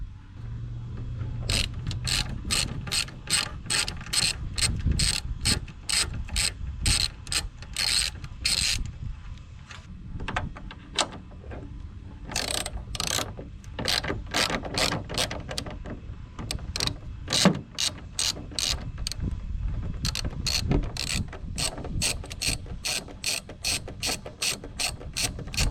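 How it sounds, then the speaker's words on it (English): A hand ratchet cranks repeatedly while loosening headlight bolts on a 2013 Chevy Tahoe LTZ, sharp rapid clicking bursts close by, in several runs separated by short pauses, no voices. "But I just took these top two bolts out,"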